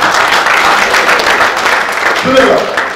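A Holi humorous-poetry gathering erupts in loud, sustained applause from a close audience, with dense clapping that continues steadily for the full few seconds.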